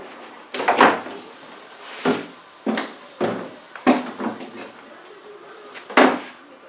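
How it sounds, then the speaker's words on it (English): Pneumatic landing gear doors on a scratch-built Airworld Cougar model airplane, run on about 100 psi of air, give a series of sharp hissing thumps. Seven or so distinct bursts are spaced about a second apart, close up and alone. "Gear door shut."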